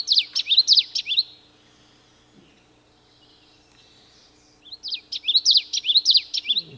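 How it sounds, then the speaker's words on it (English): A recorded bird song played from a handheld bird-call player, the witchity witchity call: two bursts of rapid, high, repeated chirping phrases separated by a few seconds of near silence, close and clear. "It's called the witchity witchity call."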